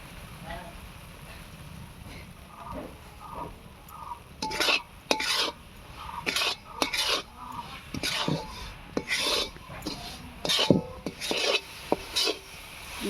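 A spoon scrapes and stirs a thick mixture of roasted rice flour and coconut in a pan in repeated rhythmic strokes, close by, with faint clinks between scrapes.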